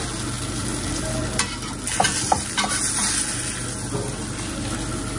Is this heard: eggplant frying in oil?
yes